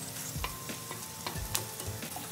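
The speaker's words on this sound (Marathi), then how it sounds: "आता हे छान असं भाजून घेते आणि लगेच आपण ह्याच्यामध्ये थोडंसं हे जिरं पण टाकून घ्यायचं।" Green chillies roast with cumin seeds in a pan, a steady soft sizzle broken by scraping stirring strokes at an uneven rhythm, with no talking.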